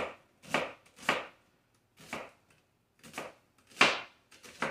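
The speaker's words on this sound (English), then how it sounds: "So now I cut onion on top" A knife cuts onion on a board in a catering kitchen, with about eight separate crisp chops spaced irregularly, close and fairly loud, and quiet between them.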